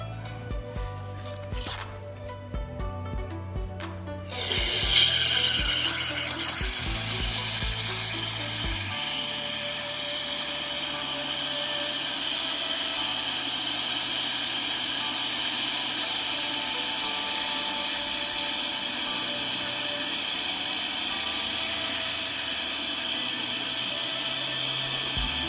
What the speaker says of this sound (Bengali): তো সবার প্রথমে আমরা এলপিজি গ্যাসটা কোকের ভিতরে ঢেলে নিই